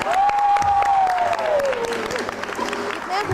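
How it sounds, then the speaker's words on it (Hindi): Audience applause for the participants of a television show, a steady wash of clapping lasting throughout with a prominent voice or tone sliding over it. "एक बार बहुत सारी तालियां"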